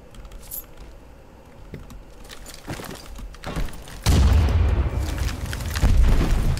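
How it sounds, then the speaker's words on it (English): Mortar shells exploding in the shooter CRSED: F.O.A.D., starting with scattered thuds and rattles, then a huge close blast followed by sustained rumbling and crackling debris, with a second heavy impact near the end. "Who's using the mortar?"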